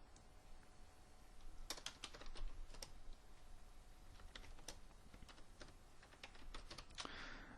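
Quiet typing on a computer keyboard, scattered crisp key clicks in short bursts over a low background hum, with no talking.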